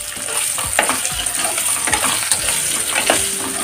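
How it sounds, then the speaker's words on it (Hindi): Baby potatoes sizzle and fry loudly in hot oil with cumin and asafoetida, close up, with a steady crackle and repeated scraping stirs from a spoon. "थोड़ी देर के लिए आलू को इसी ऑयल में हम फ्राई सा कर लेंगे।"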